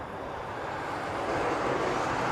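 A Southwest Airlines airliner on its takeoff run toward Kona, a broad steady jet roar heard from a distance that swells slightly louder as it goes.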